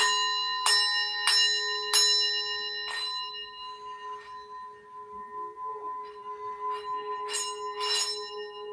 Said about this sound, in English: I'm gonna do my singing bowl real quick, y'all.